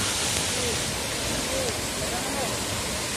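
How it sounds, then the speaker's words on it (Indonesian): Burai-Burai Luhuang waterfall in Malalak roars as a steady, loud broadband rush of falling water that fills the whole scene without a break. "ini dia air terjun atau Burai-Burai Luhuang"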